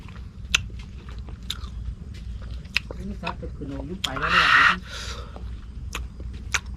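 Sour fruit dipped in chili salt is bitten and chewed up close, with soft wet chewing building to a loud crunchy bite burst a little past the middle, then more quiet mastication.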